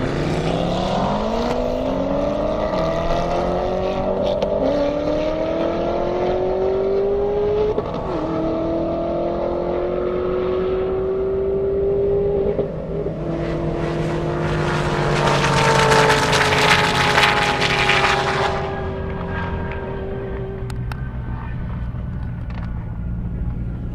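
A drag-racing Audi RS6 on a half-mile airstrip course, the engine climbing through rising revs with gear-change dips as it accelerates away, loud and sustained, a roaring surge in the middle before fading.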